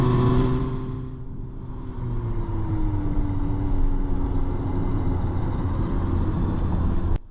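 A 2025 Omoda 5 accelerating hard from 0 to 100 km/h, heard from inside as a steady engine drone that climbs in pitch through the run over a constant road rumble, ending abruptly.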